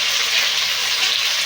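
Chicken pieces for a curry fry in a pan with a steady, dense, hissing sizzle that stays close and constant throughout the short stretch.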